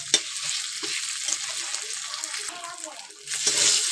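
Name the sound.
frying and stirring spice paste (masala) for tengra fish curry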